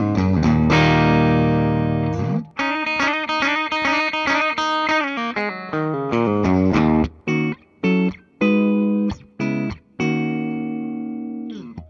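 A 1987 Gibson SG electric guitar plays a ringing sustained chord, then a run of short, plucked single notes and staccato stabs, clean and bright with a slight twang, loud and alone.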